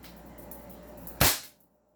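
A toy Desert Eagle Silver pistol fires one sharp crack at close range, rising from a low steady hum and cutting off quickly into near silence.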